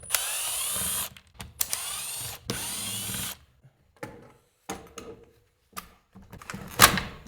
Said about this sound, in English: So I'm gonna try and get all these screws out and get it apart